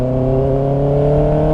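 A motorbike engine holds at high RPM with a loud, steady buzzing whine of strong harmonic tones, rising slightly, close and unbroken, with no speech over it.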